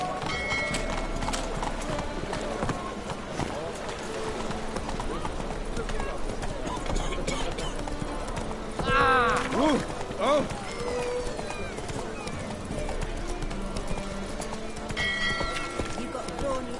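Horse galloping in The Witcher, a dense rapid clatter of hooves throughout, with a brief whinny partway and voices speaking over it.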